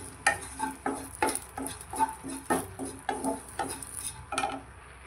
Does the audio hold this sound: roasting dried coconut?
yes